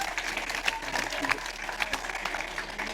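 Audience applause at a French rap battle, dense clapping and crowd noise held for a few seconds at moderate level without a break.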